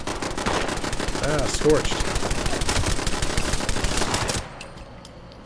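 Enclave turrets in a video game fire rapid, sustained automatic bursts, loud and dense, before cutting off near the end. Someone speaks briefly over the shooting.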